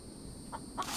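Game chicken in the survival title The Infected gives a few short, soft clucks spaced across the second, fairly quiet over a faint steady background hum.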